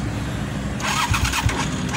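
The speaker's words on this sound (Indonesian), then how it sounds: "Jadi kalau ngidupin mesin untuk moge ini harus tekan kopling dulu" A Suzuki TL1000S motorcycle engine cranks and catches, rumbling to life with a loud, uneven idle close by.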